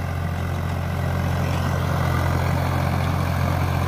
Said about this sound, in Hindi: बहुत निक जोतत बा ट्रैक्टर जान लही